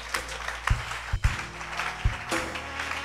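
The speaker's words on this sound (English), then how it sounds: "give God a mighty clap offering" A church congregation gives a short clap offering during a service, brief bursts of clapping over a low, booming room sound, with several heavy thumps punctuating the reverberant hall.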